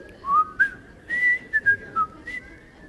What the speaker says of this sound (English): Oh, somebody's whistling.